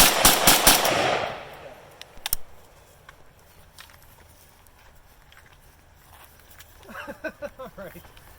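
An East German AK rifle fires a rapid burst of loud, sharp shots nearby to empty its magazine, followed by a single later shot and quieter outdoor sounds, then a voice speaks near the end.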